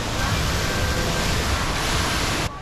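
Steady rushing splash of an indoor water feature in the ICONSIAM shopping mall in Bangkok, a broad continuous wash of falling water heard close and loud, cutting off abruptly at the end.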